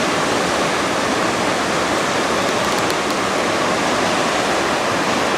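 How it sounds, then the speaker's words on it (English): River water flowing through Indian countryside near Orchha, a loud, steady broadband rush that stays continuous throughout with no talk. "How pretty this river looks."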